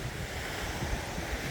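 Waves at Haad Son Secret Beach on Koh Phangan, Thailand, a soft continuous rush of surf mixed with wind noise on the microphone, fairly faint.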